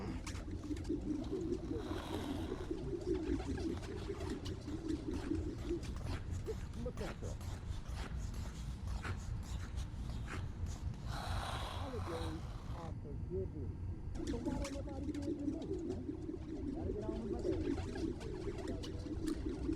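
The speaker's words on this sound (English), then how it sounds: "Could be the pigeons" Pigeons coo steadily in a city park in the Spider-Man: Miles Morales video game, a soft low murmur running under intermittent rustle and background ambience, with voices talking over parts of it.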